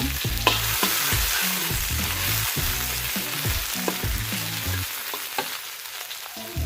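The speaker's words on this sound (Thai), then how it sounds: "หลังจากที่เราทอดปลานะครับ เราก็ต้องใส่ กระเทียมคลุกนะครับผม" Crushed garlic fries in the oil left from frying tilapia, sizzling and crackling loudly and close, with repeated stirring scrapes and bursts of spattering that ease toward the end.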